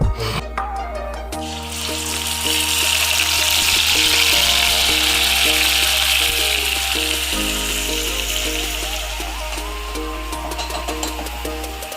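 Ginger garlic paste and a bay leaf frying in hot oil, a bright steady sizzle with light crackling that rises after the first second and holds, under a low continuous hum.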